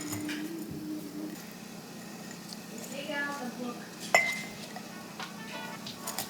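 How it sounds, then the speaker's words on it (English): Carrots laid sideways and packed into glass canning jars, giving light scattered clinks and taps of glass close by, with a sharper knock midway, while a person talks over it. "So now I'm gonna add the carrots in, and the way I do that is just kind of lay it to the side and put them in sideways."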